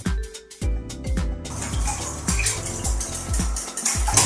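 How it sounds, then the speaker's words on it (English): Crepe batter for Norwegian crepes being whisked in a bowl, with a steady rhythmic series of loud knocking clinks against the bowl and wet sloshing, close and continuous. "the key thing is to just keep mixing until the batter is really smooth"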